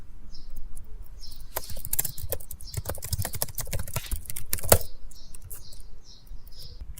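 Typing on a computer keyboard in the nano text editor on Linux, a run of close, crisp key clicks in an uneven rhythm, with a brief pause and one louder keystroke near the end.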